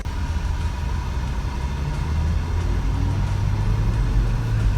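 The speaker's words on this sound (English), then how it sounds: "you can hear that engine loves to rev up" A BMW E36 with 225,000 miles revs its engine, a steady loud drone with low rumble that climbs slightly in pitch and volume toward the end, heard alone without talk.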